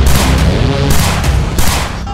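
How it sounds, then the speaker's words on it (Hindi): A dense, loud burst of rapid gunfire crackling continuously with overlapping shots, no voices present. "ताबड़तोड़ गोलियां"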